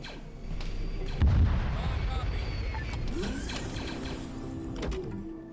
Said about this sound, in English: there's a sentry right there firing at them